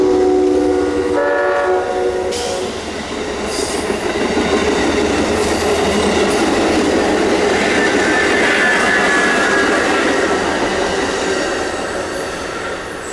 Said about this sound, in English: Amtrak's Carolinian came knocking on the door, having just departed Charlotte